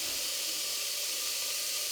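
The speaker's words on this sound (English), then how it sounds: "Pop your carrots into a saucepan and you're just going to cook these until they get a little bit of colour." Carrots cook in a saucepan with a steady, even sizzling hiss that holds at a moderate level throughout, with no voices.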